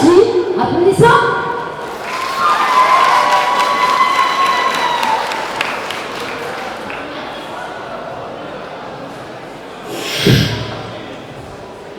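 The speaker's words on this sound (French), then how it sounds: "Applaudissons." A convention crowd at a cosplay contest cheers and applauds a contestant, a loud burst of clapping and shouts early on that fades into a low murmur, with a sharp thump near the end.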